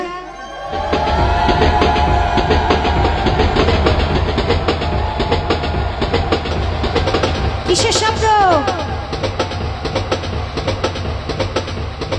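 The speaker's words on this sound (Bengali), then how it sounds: "ওমা ট্রেনের শব্দ শোনা গেল" A recorded train plays back during a staged Raslila dance-drama performance: a loud, steady rolling rumble with rhythmic rail clatter and a brief whistle or horn blast partway through, while people talk over it.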